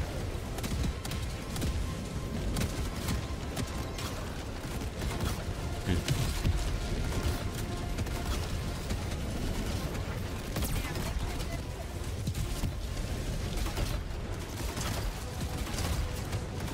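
Dense, continuous gunfire, tank cannon fire and mechanical clatter from a Helldivers battle, rapid bursts layered over a steady rumble throughout.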